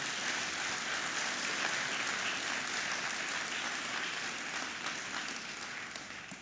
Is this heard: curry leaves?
no